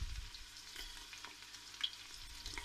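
Onion and garlic frying in a pan for a quick garlic soup, a faint, steady sizzle with soft crackles and a brief clink near the end, no voices.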